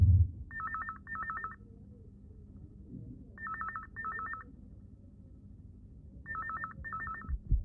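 Three pairs of short electronic telephone tones sound at even intervals over a low background rumble, with no voices, a phone call to the police in a Hindi radio play.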